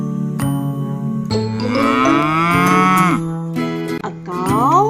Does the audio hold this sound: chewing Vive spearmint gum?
no